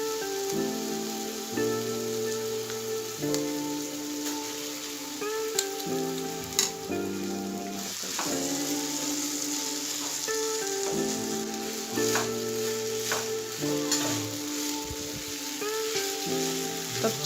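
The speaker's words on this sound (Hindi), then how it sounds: "तो चावल को मसाले के साथ अच्छे से थोड़ा सा फ्राई कर लेंगे।" Rice fries with spices in a pot for chicken dum biryani, giving a steady close sizzle with faint stirring, while music plays underneath throughout.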